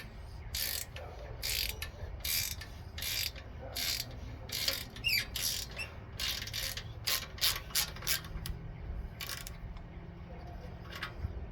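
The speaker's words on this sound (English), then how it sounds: "So I'm working on getting the Allen head bolts out of there." Allen head bolts are worked loose on a scrap-yard Yazoo mower with a Kohler Magnum 18 engine, a series of quick ratcheting and metallic clicking bursts in uneven clusters, close and fairly loud.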